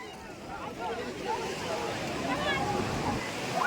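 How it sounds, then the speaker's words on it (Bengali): Sea waves at Gangasagar roll and crash in a steady broadband wash, loud and close, with wind over the open shore and no voices. "কি বড় জায়গা আর ঢেউয়ের মারাত্মক লেভেলের আওয়াজ"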